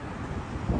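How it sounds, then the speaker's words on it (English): A short burst of wind buffeting a camera microphone outdoors in Narita, Chiba, a low rumbling whoosh that swells louder near the end, with no talking. "I hope the wind sounds are not too annoying."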